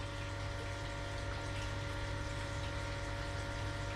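Koi pond water pumps mounted dry outside the water, with 1.5-inch inlets and outlets, running as a loud, steady hum with a low mechanical drone and constant rushing water noise, unbroken throughout.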